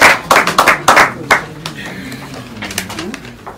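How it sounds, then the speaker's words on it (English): An audience at a community gathering gives a short burst of uneven clapping, a handful of sharp claps that trails off into quieter room noise. "An applause, ladies and gentlemen."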